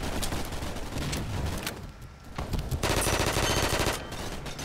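Video game gunfire rattles in rapid bursts, fast automatic shots with a short lull midway before another dense volley, loud and continuous, no talking.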